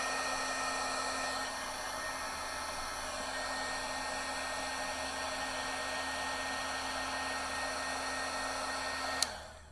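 Heat tool blowing a steady whirring hiss while melting embossing powder on suede velvet paper, constant and close for several seconds before switching off with a quick drop at the end.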